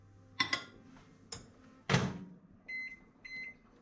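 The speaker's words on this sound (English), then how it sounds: "Another 30 seconds, and we're going to continue doing that until the chocolate's melted." A microwave used for melting chocolate for brownies: a couple of clunks as its door shuts, followed by two short electronic keypad beeps, close and clear in a quiet kitchen.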